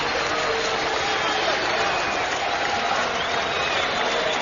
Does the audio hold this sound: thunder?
no